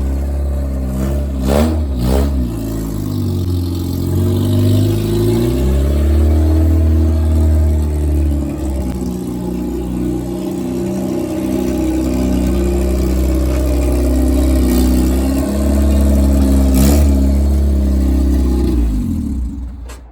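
A Honda Civic hatchback engine cranks, catches and revs several times over a steady rough idle, with a close, loud rumble that rises and falls throughout.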